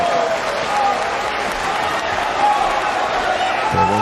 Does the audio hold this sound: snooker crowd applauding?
yes